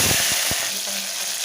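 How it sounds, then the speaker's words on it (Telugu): Mustard seeds frying in oil inside a pressure cooker while a beans and tomato curry is made, giving a steady bright sizzle with a few soft pops and taps near the start. "కుక్కర్ పెట్టుకొని దాంట్లో ఆయిల్ వేసుకొని ఆవాలు"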